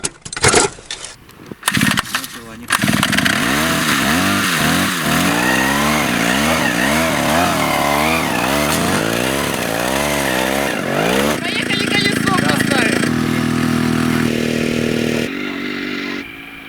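Small chainsaw-engine bike running loudly and steadily close by, its revving pitch rising and falling in waves, after a few brief starting bursts; the tone shifts near the end before the engine drops off.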